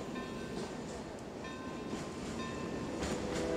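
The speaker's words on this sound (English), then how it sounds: "I hear the train." A cartoon train approaches, a continuous rumbling rail sound with a faint clickety-clack rhythm that grows slightly louder toward the end, heard alone at a steady moderate level.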